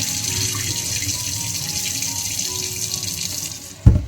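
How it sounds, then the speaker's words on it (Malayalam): Hot water streams steadily from a kitchen tap into a sink as cooked rice is washed, a continuous close hiss and splash that ends in a brief louder knock near the finish. "എന്നിട്ടിതാ പൈപ്പ് ഒന്ന് തുറന്നിട്ട് കൊടുക്കട്ടോ. ചൂടുള്ള വെള്ളമായതുകൊണ്ട്."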